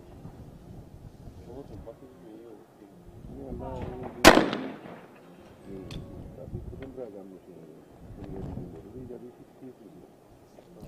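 A single sharp shotgun blast in a women's team trap shooting medal match, one crack from a distance beneath continuous commentary.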